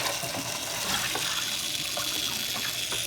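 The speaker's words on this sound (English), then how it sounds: "We're gonna run some water over them, strain them really." A kitchen faucet runs a steady stream of water over wheatgrass seeds in a strainer, making a continuous close-up gushing and splashing sound with no talking.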